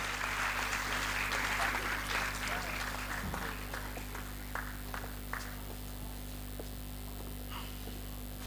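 An audience at a Punjabi literary festival gives a burst of clapping that peaks for about three seconds, then thins out and fades under the room's steady hum, with scattered voices and movement afterward.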